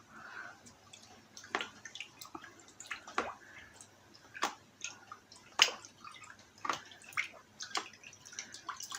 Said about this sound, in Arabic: هشطف ايدي تاني، دي ميه ساقعه